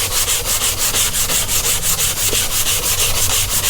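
Steady back-and-forth hand sanding with 180 grit paper over primer on a fiberglass bumper lip for a 1979 Chevy Malibu, a loud, close, rhythmic rasp of quick even strokes running throughout with no voices.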